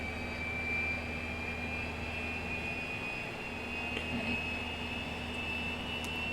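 A Shrike Simulations F-86F-30 Sabre jet engine in MSFS spools up during a cold start, a steady, fairly quiet turbine whine with a high tone over a broad airy rumble, holding level throughout without voices.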